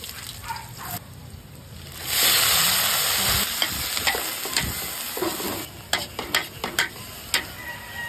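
Garlic hits hot oil in a wok with a sudden loud sizzle that settles into steady frying, with clinks and scraping of stirring throughout.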